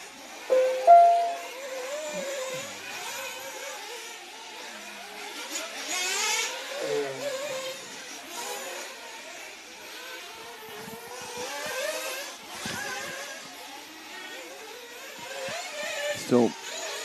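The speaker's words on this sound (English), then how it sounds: "A couple of cars leaving, yeah." Engines of 1/8 scale off-road RC cars buzz and whine as they leave the pits at a European championship finals, high revving drone throughout under a commentator's continuous talk.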